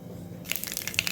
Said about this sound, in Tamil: இந்த டைம் கடுகு போட்டுக்கலாம். வெந்தயமும் போட்டுக்கலாம்.